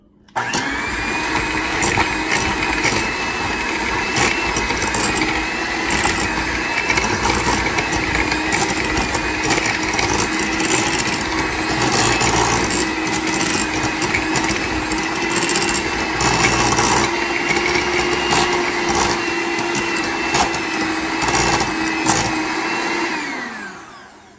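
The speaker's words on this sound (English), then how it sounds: "now I'm going to shred it with my mixer" A loud electric mixer whirs steadily for over twenty seconds, its motor grinding and rattling as it shreds cooked chicken, then winds down.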